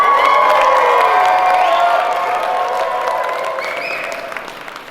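Wedding guests clap and cheer loudly, with whoops and high-pitched shouts from the crowd fading gradually over about five seconds, with no talk.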